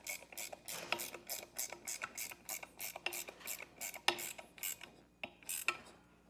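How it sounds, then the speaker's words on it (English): A socket wrench ratchets in quick repeated bursts as bolts are tightened while installing rear air helper springs, crisp clicking strokes close by with short pauses between runs. "tighten these down, you'll need a 9/16 or 14mm socket or wrench."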